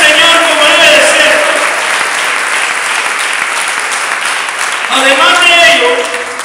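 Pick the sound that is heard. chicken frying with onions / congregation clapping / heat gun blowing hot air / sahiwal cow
congregation clapping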